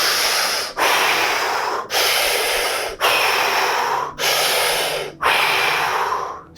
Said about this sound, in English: We're gonna be breathing in what's called a circular diaphragmatic way